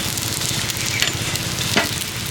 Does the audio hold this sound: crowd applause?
no